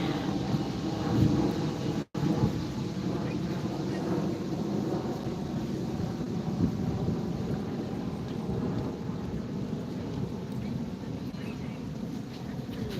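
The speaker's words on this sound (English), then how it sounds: "tiny jet taking off" A small jet takes off from LAX and passes overhead near the beach, a steady broad roar that holds for the whole stretch, with a brief dropout early on and wind buffeting the microphone.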